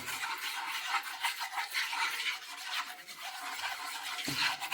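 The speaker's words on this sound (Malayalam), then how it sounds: "നമുക്കിതൊന്ന് നന്നായിട്ട് മിക്സ് ചെയ്ത് കൊടുക്കാം" Spoon stirring rice flour and milk in a bowl, a soft continuous scraping and rubbing sound close by with no talk.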